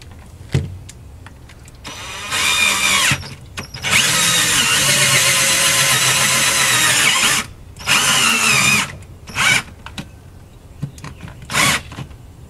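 Power drill boring through the plastic housing of a portable chiller: several loud whining bursts of varying length, the longest running a few seconds, separated by short pauses and softer clicks, close up.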